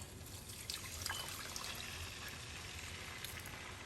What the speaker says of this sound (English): I'm going to put about 2 cups of water inside of our pan